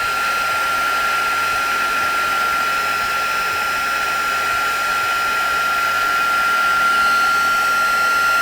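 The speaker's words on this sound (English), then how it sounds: "Here I hold it steady and just follow the embossing around as it heats" Heat gun held steady over embossing powder on gloss card, melting it to a shiny raised finish: a loud, continuous airy blower roar with a steady high whine, unbroken throughout.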